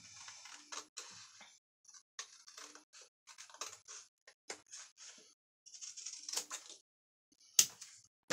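Scissors snipping along a row of polka dots on paper or fabric, a quiet, close series of short irregular cuts and clicks separated by pauses.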